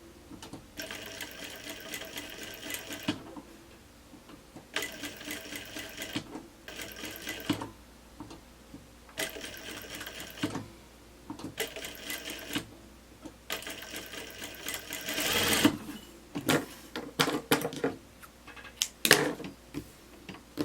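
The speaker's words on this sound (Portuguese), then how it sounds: "costuro bem na beirinha" A sewing machine stitches close along the edge of a blouse in repeated rapid bursts of even clatter with short quiet pauses between runs, then ends in a few louder knocks and clicks.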